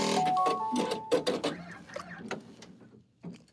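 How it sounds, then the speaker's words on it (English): A single needle embroidery machine sews 3D puffy foam onto a sweatshirt: a rapid mechanical stitching patter with steady whirring, loud at first, then thinning into sparse clicks and short bursts near the end. "Single needle embroidery machine life."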